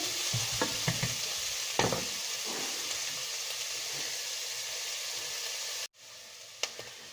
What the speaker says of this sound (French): Donc le but c'est de réduire votre oignon et que ça soit plus souple.